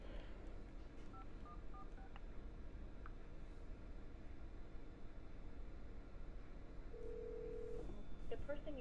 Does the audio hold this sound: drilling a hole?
no